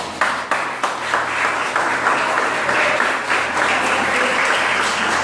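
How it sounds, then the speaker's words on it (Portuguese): A church congregation applauds during a sermon, with full, sustained clapping that starts in scattered claps, swells, and holds steady and loud in a reverberant hall. "Você pode aplaudir?"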